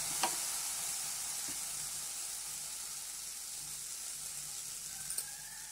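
Chilli garlic prawns fry in a pan over a low flame, giving a steady soft sizzle and hiss with a couple of faint clinks from stirring, close and with no voices.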